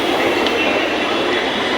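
A Mumbai metro train rumbles loudly and steadily close by, with a faint wheel squeal as it rolls into the station.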